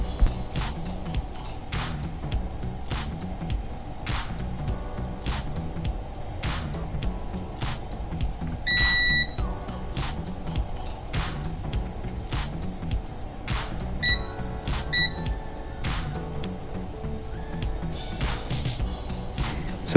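A multimeter beeps on a continuity test while a faulty DVR board is probed. There are a few short electronic beeps in pairs and a brief longer tone, over a faint hum and scattered clicks and taps.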